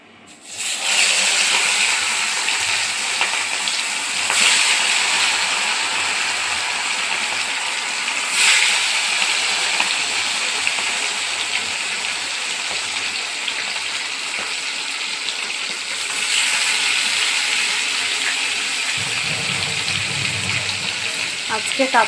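Katla fish pieces frying in hot oil, a loud, steady sizzling hiss that runs unbroken from start to finish with only slight swells.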